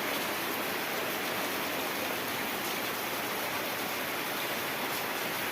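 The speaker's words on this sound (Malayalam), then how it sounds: "മഴ പെയ്യുന്നുണ്ട്." Heavy rain pours down in Idukki in a dense, even hiss that stays loud and unbroken throughout, with no voices.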